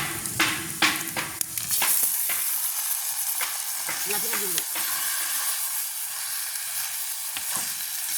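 Onions and chillies sauté in an oiled pan for a village-style meal, a steady close sizzling hiss broken by scraping stirs and a few knocks of the spoon against the pan, with no talk.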